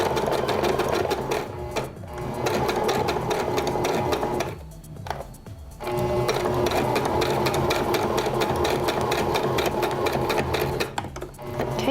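Sewing machine running steadily while stitching hair weft onto wig fabric, a loud continuous mechanical whir with rapid needle clatter, briefly pausing twice before resuming.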